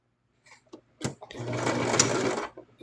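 Sewing machine stitching one side of a plush spider leg, a steady continuous mechanical whir that runs for about a second and a half after a few brief clicks, close and fairly loud.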